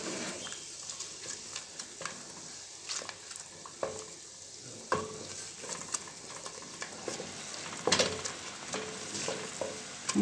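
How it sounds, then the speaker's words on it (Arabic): Flour being stirred into hot oil in a steel pan, a steady soft scraping and faint sizzle with scattered louder spoon clicks against the metal, close and alone without talk. "طبعا كده هننزل بربع كوبايه الدقيق، ونبدا كده نقلب فيها مع الزيت بتاعنا."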